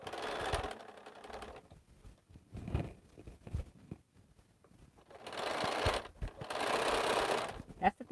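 A sewing machine stitches Cleopatra's Fan quilt blocks into rows in loud whirring bursts broken by quieter pauses, with a voice heard faintly at times.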